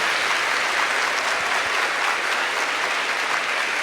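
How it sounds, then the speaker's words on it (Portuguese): A church congregation at a Catholic service led by a priest breaks into applause, a loud, dense, continuous clatter of many hands sustained evenly for several seconds. "Amém, pode aplaudir."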